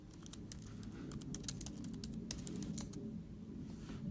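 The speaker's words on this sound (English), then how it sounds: "It's hard typing with one hand." Quick, uneven clicks of a computer keyboard being typed on with one hand while searching a teaching-resources website, with steady key taps for about four seconds over a low room hum, no talking.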